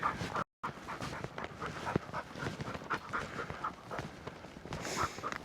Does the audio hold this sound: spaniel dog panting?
yes